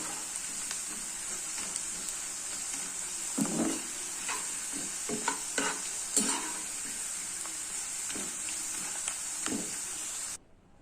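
Pieces of taro (chamagadda) fry slowly in a pan with a steady, soft hiss and sizzle. Occasional scrapes and taps come from turning them, and the sound cuts off abruptly at the end.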